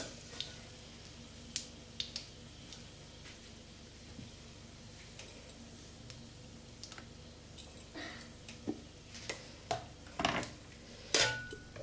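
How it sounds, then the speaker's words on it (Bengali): Ground ginger, tomato, onion and garlic paste going into a cooking pot for ghugni, heard as scattered light clinks and taps of a spoon against metal, growing busier and louder toward the end over a quiet kitchen hiss. "এবার ওই পেস্ট করে রাখা মশলাটা আমি এর মধ্যে দিয়ে দেব"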